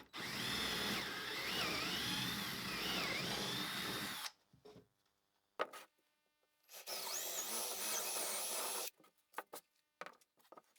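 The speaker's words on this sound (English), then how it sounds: "with our 3/8-inch drill bit, put the center of it right there and drill straight through" A power drill with a 3/8-inch bit bores through a wooden cornhole board in two loud whining bursts separated by a quiet pause, with faint knocks and handling sounds between and after them.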